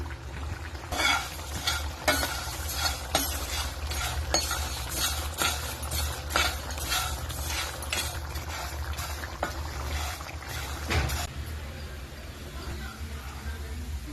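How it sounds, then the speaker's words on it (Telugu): Whole spices such as coriander seeds, cardamom, cinnamon, cloves and fenugreek are dry roasted in a pan, giving close, steady scraping and stirring clatter with light rattling that thins out near the end. "ధనియాలు యాలకులు దాల్చిన చెక్క లవంగం మెంతులు ఇవన్నీ కూడా డ్రై రోస్ట్ చేసుకుందాం"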